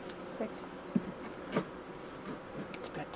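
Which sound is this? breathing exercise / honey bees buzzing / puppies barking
honey bees buzzing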